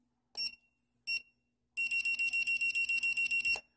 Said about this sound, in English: and it'll actually beep.